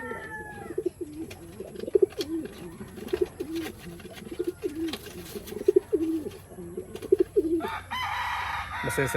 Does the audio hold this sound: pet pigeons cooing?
yes